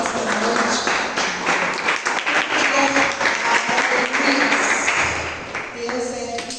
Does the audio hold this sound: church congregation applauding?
yes